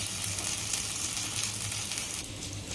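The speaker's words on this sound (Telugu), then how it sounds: "అందులో పొంగనాలు వేసుకొని దూరంగా కాల్చుకోవటమే" Semiya ponganalu fry in a pan with a steady, close sizzle and fine crackling, a continuous hiss without pauses over a faint low hum.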